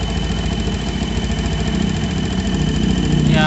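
A Yamaha Jupiter MX motorcycle engine running with an abnormal noise from the head area: a steady, loud mechanical drone with a fine rapid ticking rhythm, close up and continuous.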